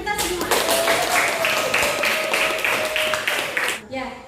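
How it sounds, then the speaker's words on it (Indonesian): Children clapping together in a classroom, a sustained burst of many hands under a voice speaking, fairly close and lively before tapering off. "Tepuk tangan untuk kita semua."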